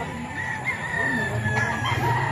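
A rooster crows at a chicken farm in Tondo, one sustained call that is loud and fairly close against a dense, noisy farmyard background.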